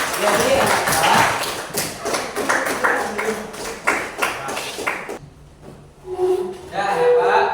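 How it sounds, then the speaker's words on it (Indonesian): Classroom applause for a student named Nia, a burst of clapping and tapping from a group of children that fades out midway, then a teacher's voice takes over. "beri aplaus buat Nia"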